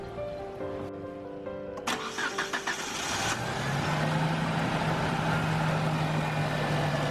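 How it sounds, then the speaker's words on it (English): A car engine, just refilled with coolant after a radiator replacement, cranks with a few quick stutters, catches, and settles into a steady, fairly loud idle hum that continues to the end. "Start the engine and test it."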